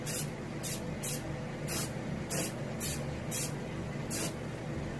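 Short bursts of airbrush spray hiss while painting the fins of a striped bass skin mount, about eight in a row at an uneven rhythm, each a second or less, over a steady low background hum.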